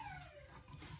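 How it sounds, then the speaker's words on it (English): A dog whimpers softly in a thin, high, falling whine, faint and close, with a quiet background. "And excuse my dogs"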